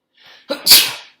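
One person sneezes close up: a soft intake breath, then a sharp, explosive burst that trails off quickly.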